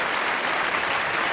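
An audience claps together at a live comedy show, a brief, dense wash of applause that stays steady and fairly loud throughout.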